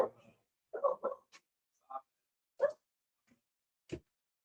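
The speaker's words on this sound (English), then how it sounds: "Oh, that's the dog." A dog gives a scattering of short barks and yips at a household door that was left open, separated by silence, fairly close and moderately loud, with no speech over them.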